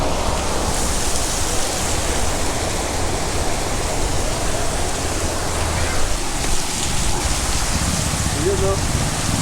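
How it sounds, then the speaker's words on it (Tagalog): Heavy rain falls in the mountains of Socorro as a loud, continuous broadband hiss and patter, steady and close throughout with no pauses. "Pero lakas pa rin ang ulan mga kabisig."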